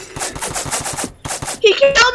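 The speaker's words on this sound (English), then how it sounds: "He shot through the window." Rapid automatic gunfire in the zombie survival game Apocalypse Rising 2, a steady burst of evenly spaced shots, a brief gap, then more shots followed by sharper game sound effects.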